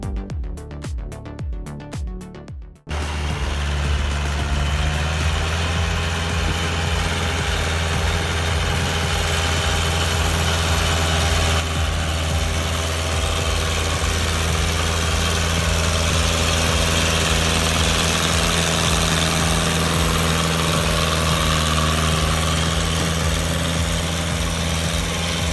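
A tractor engine stuck in mud runs steadily and loudly at a low idling rumble with constant vibration, following a brief choppy burst at the start; no voices.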